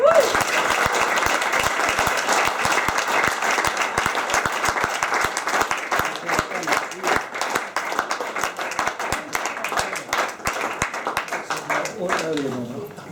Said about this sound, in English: So would you please join me in a round of applause whilst we give out gifts to everyone